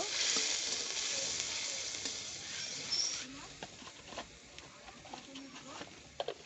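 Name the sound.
spices sizzling as they are sautéed in oil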